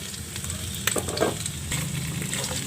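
Boiled pork sautés with onions in a pan for creamy sinigang, a dense close sizzle broken by a few stirring clatters and scrapes.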